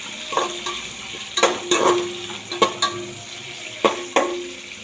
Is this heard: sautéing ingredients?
yes